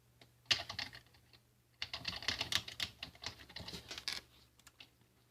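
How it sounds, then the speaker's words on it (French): Text being typed on a computer keyboard in Microsoft Word: a short burst of key clicks, a pause, then a longer rapid run of close, crisp keystrokes. "je vais taper du texte"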